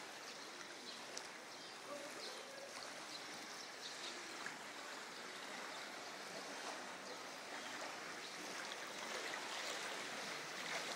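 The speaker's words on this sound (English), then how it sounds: "that current is just flowing by here, man. That's like a strong river" Strong floodwater current rushes past like a river, a steady broadband wash of flowing water, fairly faint and continuous with no voices.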